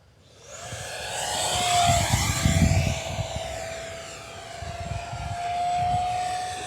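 A small radio-controlled T-33 jet model flies past outdoors, its thin whine rising and sweeping across as it nears and recedes, with a louder rumble at the closest point.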